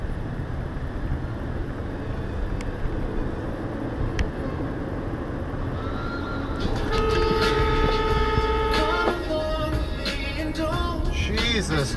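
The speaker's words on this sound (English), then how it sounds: "And you get to hear my new horn." A truck's new horn honks in traffic, a few loud sustained tonal blasts sounding over road and engine rumble, following a stretch of steady driving noise.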